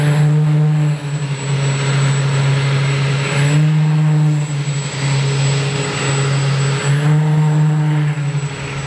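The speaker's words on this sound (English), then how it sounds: "the pure tone of a huge whistle being driven by 200 pounds of thrust from a jet engine" A huge whistle blown by a jet engine making 200 pounds of thrust, a very loud steady pure tone over a roaring jet rumble, sustained with slight swells and dips at a Survival Research Laboratories show in LA.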